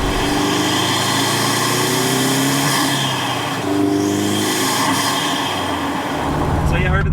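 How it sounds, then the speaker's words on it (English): From the driver's seat of a Subaru WRX STI fitted with a Cobb Redline intake, a loud, continuous intake roar sits over a droning engine whose tone climbs and dips as the car accelerates. "actually sitting here in the driver's seat, there is a really strong air intake noise"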